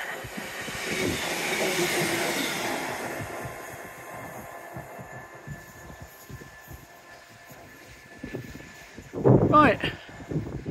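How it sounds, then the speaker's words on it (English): A train runs along a seawall with a rumbling roar that builds early, then fades into a quieter clattering passage, ending in a louder burst of wheel and rail noise. "And there's a train coming, so I will show you it once the train has passed."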